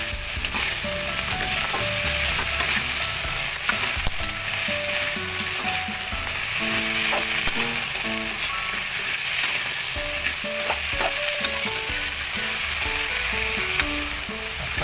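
Crab frying in a wok and being stirred, a steady loud sizzle throughout with scraping and clattering of the utensil against the pan, plus intermittent beeping tones in the background.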